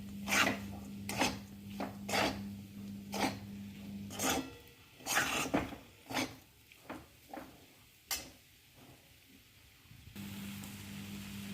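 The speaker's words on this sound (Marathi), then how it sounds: "याला आपण परतून घ्यायचं आहे" A spatula scraping a pan while peanut powder is stir-fried for sabudana khichdi, giving about a dozen distinct rasping strokes in an uneven rhythm over a low steady hum.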